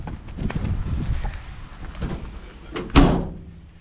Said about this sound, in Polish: Żuczkę zamykamy.